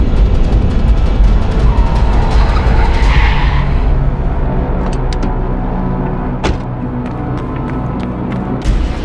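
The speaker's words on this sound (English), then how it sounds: "Gordon slams the brakes and tries to swerve out of the way" A car brakes hard and skids in a dramatic audio story scene, a loud sustained tire screech over rumbling noise, fading after a few seconds into lower engine and street sounds with a few sharp impacts.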